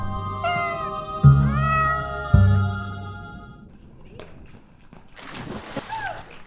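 A cat meows several times, drawn-out rising and falling cries up close, with a low rumbling background and some rustling toward the end.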